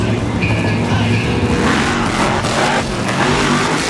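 The Monster Patrol monster truck, a former 1997 World Indoor Champion, roars loudly and steadily on a speedway, its engine revving under crowd noise with rising bursts of throttle throughout.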